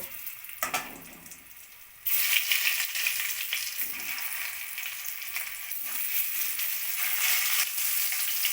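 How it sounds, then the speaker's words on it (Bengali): Boiled potatoes drop into hot oil in a pan, a couple of soft knocks giving way to a sudden, loud, steady hiss of frying that continues close up to the end. "আলুগুলোকে আমি একটু লাল লাল করে ভেজে নেব"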